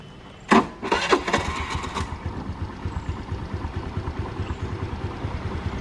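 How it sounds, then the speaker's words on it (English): Suzuki Burgman scooter engine cranks with a couple of sharp bursts, then settles into a rhythmic, evenly pulsing idle from its exhaust, close by and moderately loud with no speech over it. "We need Bergman's exhaust note."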